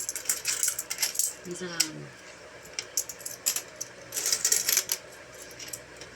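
Coins from a savings stash clatter and rattle in repeated bursts as they are dropped and counted, with a voice speaking briefly over the jingling.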